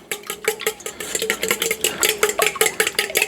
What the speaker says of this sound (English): Now we're going to beat these finely, just until they're combined